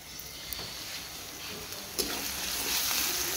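Onions sizzling in a pan for biryani, a faint, steady frying hiss with a few soft crackles and a brief stirring clatter, heard on its own without talk.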